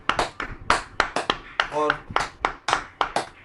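Several hands clap in a short irregular burst during an online farewell gathering, with a voice speaking over and between the claps.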